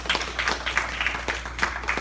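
Applause for the king from a church congregation, a thin, fairly faint patter of hand claps in an uneven rhythm lasting a couple of seconds.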